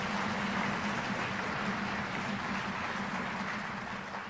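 Audience applause at a school reunion opening ceremony, a steady wash of clapping from a large crowd, fairly even and slightly tapering at the end.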